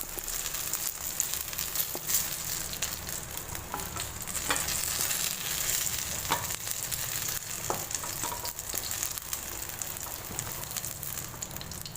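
Eggplant pieces fry in oil until golden for an eggplant and potato curry, a continuous crackling sizzle with scattered pops and occasional utensil taps throughout.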